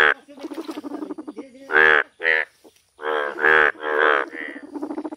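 Deep, throaty frog croaks repeat in a quick, uneven series, close and fairly loud.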